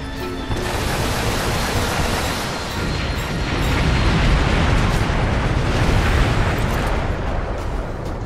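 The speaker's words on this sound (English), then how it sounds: "Mortar! Fire!" Mortar strikes in the game Earth Defense Force 5, a sustained rumbling barrage of explosions, loud and dense, swelling midway and rolling on for several seconds with no talk.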